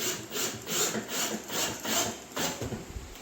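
Self-tapping screws driven into wooden shop steps make rhythmic grinding and rasping bursts, about six even pulses in quick succession, close and steady, with no talking.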